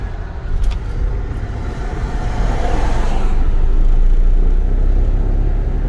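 A Subaru Outback 3.6R engine with a new Walker Quiet Flow muffler and 260k miles rumbles and revs up gradually, a low, deep, fairly muted drone building slightly in loudness.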